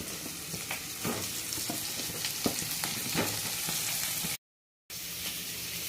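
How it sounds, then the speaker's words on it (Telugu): Slit whole ivy gourds (tondakaya) drop into hot tempering oil for a masala dish, giving a steady, close sizzle with scraping stir clicks throughout and a brief dropout near the end. "ఇప్పుడు తాలింపులో ఈ దొండకాయలు వేద్దాం."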